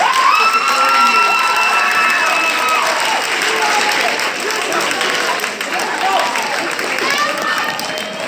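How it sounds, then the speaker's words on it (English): Loud, sustained applause and cheering from a crowd at a high school convocation, dense clapping with shouts and whoops running throughout. "I want you to give them a round of applause twice as loud for supporting you"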